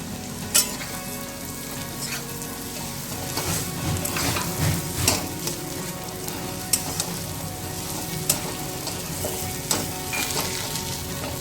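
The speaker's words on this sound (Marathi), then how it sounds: "आता त्यामध्ये मी मसाला टाकणार आहे मसाला टाकून छान परतून घ्यायचा आहे" Bitter gourd sabzi sautéed with masala in a pan: continuous close frying sizzle with stirring scrapes and a few sharp spatula knocks against the pan.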